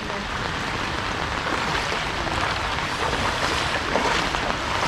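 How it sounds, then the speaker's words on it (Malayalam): Swollen river floodwater overflowing its banks and pouring toward houses during monsoon rain, a steady broadband rushing wash with wind, continuous and fairly close, no talking. "ഓക്കെ, വെള്ളം അവിടെ നിന്ന് കയറി ഇങ്ങനെ വന്നോണ്ടിരിക്കുകയാണ് അല്ല."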